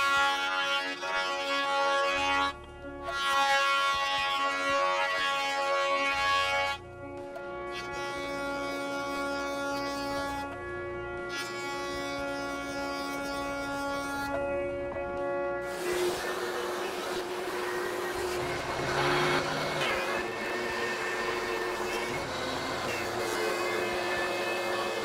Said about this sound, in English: So I'm going to take a piece of this rough cut walnut and mill it down to size.